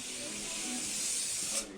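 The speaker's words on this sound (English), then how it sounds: "a bit more spray here because I've got some ham" Cooking oil sprayed from a can onto a pan, one continuous close hiss lasting nearly two seconds before it cuts off.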